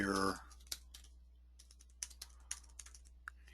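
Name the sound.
typing on a computer keyboard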